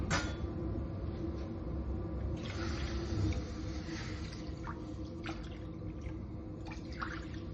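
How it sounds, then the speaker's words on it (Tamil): Water pours and splashes into a cooking pan in a continuous stream, two cups' worth, close and moderately loud, with small clinks and drips near the end. "2 கப் தண்ணி விடணும்."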